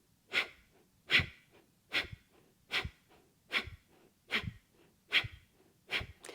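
Rapid Breath of Fire yoga breathing: eight forceful nasal exhales in a steady rhythm, roughly one every 0.8 seconds, close and clear with no talking.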